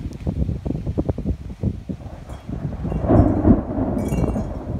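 Thunder from a lightning storm rolls outdoors as a deep, uneven low rumble that swells and grows louder partway through, then stays as a steady, fairly loud roar with some wind.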